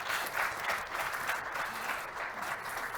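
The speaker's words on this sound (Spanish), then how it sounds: "Gracias, Ana. Un aplauso." Faint, steady applause from an audience at a telecommunications panel session, a soft continuous patter of many hands heard from a distance.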